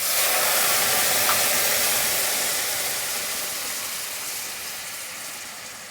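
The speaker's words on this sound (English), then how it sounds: "At this stage, I'm gonna deglaze the pan. I'm using regular dry white wine." Dry white wine poured into a hot pan while cooking chicken à la king gives a loud, steady sizzling hiss that fades slowly as the liquid reduces, with no talking.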